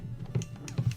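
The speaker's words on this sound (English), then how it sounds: "I know, again, I'm typing." Quick light keystrokes on a computer keyboard, a short soft burst of a few irregular clicks close by, with no talking over them.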